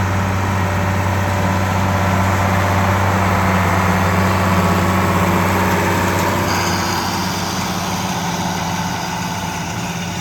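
A tractor's diesel engine idling steadily and close by during hay baling, a constant low diesel rumble with a hum that holds unchanged throughout.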